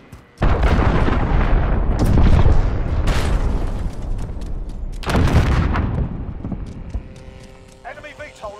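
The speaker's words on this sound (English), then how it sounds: "Enemy cruise missile incoming." Heavy booming cruise missile explosions from Call of Duty: Modern Warfare Domination, two big blasts with rumbling low-end debris and clatter, loud and close, followed by lingering game ambience.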